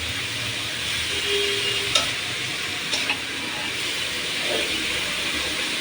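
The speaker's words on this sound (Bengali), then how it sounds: "শাকটা নেড়ে চেড়ে সুন্দর করে রান্না করে নেব।" Leafy greens cooking in a pan give a steady, soft sizzle with occasional stirring scrapes, fairly faint and with no voices.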